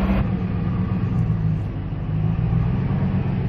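A pickup truck hauling a tall rainwater tank home rolls along, its engine and road noise forming a steady low rumble from start to finish with no talk.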